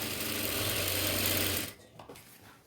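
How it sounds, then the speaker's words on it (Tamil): A sewing machine runs steadily as it stitches a double-folded half-inch hem on a yoke nighty, a loud continuous whir lasting about a second and a half before it stops, followed by faint handling sounds. "இப்போது பாட்ட பகுதி முழுவதுமே இந்த மாதிரி ஸ்டிச் பண்ணிக்கிறேன்"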